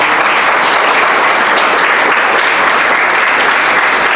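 Sustained loud applause from a church congregation praising God during a Spanish-language sermon, a dense steady wash of clapping with no voices over it.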